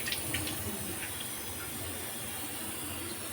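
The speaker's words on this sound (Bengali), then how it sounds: "এবার ভালো করে এটাকে ভেজে নেব, ভালো করে ভেজে নেব।" Chicken frying in a pan for a home chicken curry, giving a steady, dense sizzling hiss that holds at an even level throughout, close and alone.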